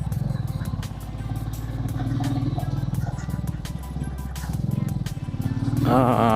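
A motorcycle rides along a forest road in Godda, Jharkhand, its engine a close, steady, pulsing drone with rattles and bumps, and a voice speaks over it at times.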